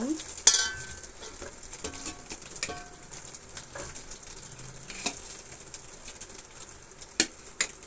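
Cooked rice tipped into a hot pan with cashews and stirred, giving scattered scraping and clinking strokes over a faint sizzle, close and fairly quiet, with no talking.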